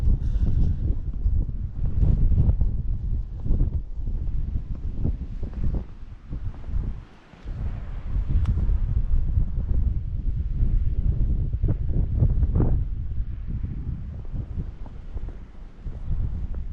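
Cold wind blows across a microphone outdoors on a snowy, slippery day in the UK, a steady low rumbling buffet that rises and falls in gusts for the whole stretch, with no talk.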